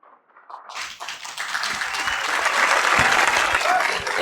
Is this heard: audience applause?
yes